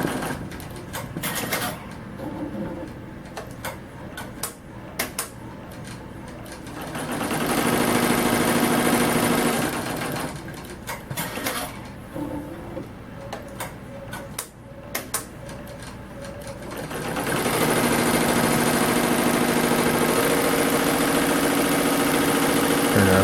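A Blue Sky 1501 3D printer runs steadily through a smooth filament color change, a mid-pitched mechanical motor hum with small rhythmic clicks and swells that grow louder in a few stretches, with no grinding.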